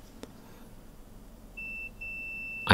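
A continuity tester on an LED spotlight repair gives a thin electronic beep, a short tone followed by a longer sustained one, faint over a quiet background, with a louder bump at the very end.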